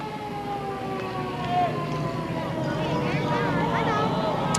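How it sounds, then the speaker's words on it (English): An old Sulphur Springs fire truck's hand-crank siren wails at a 1976 Dairy Festival parade, its rising and falling tones blending with a crowd and a voice talking over it. "And hand crank siren on that one."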